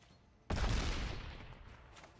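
A single sudden explosion effect from the MTG Arena card game bursts loudly and then decays into a rumbling, crackling tail over about a second and a half.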